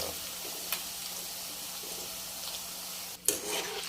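Chips frying in hot oil give a steady, even sizzle throughout, with a brief scraping clink and a short burst of bubbling near the end.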